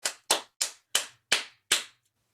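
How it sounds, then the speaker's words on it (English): Six sharp, evenly spaced claps ring out close and loud, each a bright slap that fades quickly, forming a short round of applause from a single pair of hands. "I would like to give a round of applause."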